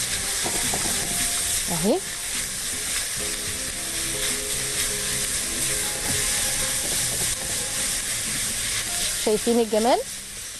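A small spoonful of country ghee sizzles in a hot pan while stuffed chicken is cooked, a loud, steady frying hiss with brief stirring scrapes, as someone talks over it.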